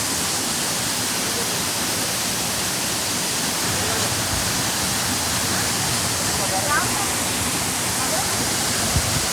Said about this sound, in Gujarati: જો મિત્રો ધોધ ચાલુ છે સરસ મજાનો.